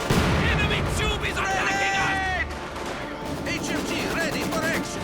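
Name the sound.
machine gun and artillery fire in a WWII strategy video game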